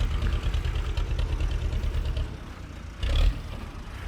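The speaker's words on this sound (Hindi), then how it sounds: "फिएट ट्रैक्टर जो है, दूसरा हमारा जो ट्रैक्टर है वो जो है वो लेवलिंग शुरू कर देते हैं।" A Fiat tractor engine runs while levelling a farm field with a back blade, a steady low rumbling chug with a louder surge near the end.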